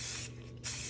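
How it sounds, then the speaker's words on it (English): Rust-Oleum spray paint hissing from a can onto a tumbler, two short loud bursts close up with a brief pause between them. "We're gonna paint it at an angle there, spray paint it."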